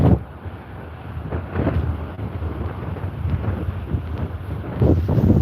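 Wind buffets the microphone on a cold seafront at Withernsea, producing loud, uneven low rumbling gusts that swell and ease throughout with no talk.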